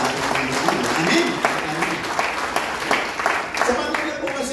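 A church congregation claps loudly together, a dense, steady wash of applause that fills the room for several seconds. A voice speaks faintly underneath.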